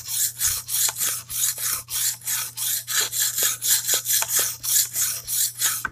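A cleaver blade drawn repeatedly across a sharpening stone, a steady rasping scrape in regular strokes about twice a second, close and fairly loud, with a faint low hum running underneath.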